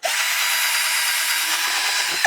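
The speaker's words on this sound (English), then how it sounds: "I'm going to drill a hole in this now." A power drill bores a hole through a piece of timber, one steady high-pitched whirring grind held at close range for a couple of seconds, with no talk.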